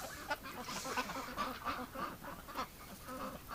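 Ducks out in the cold of winter, gathered outdoors around a water container, give off repeated honking quacks at a moderate distance, overlapping in an irregular chatter.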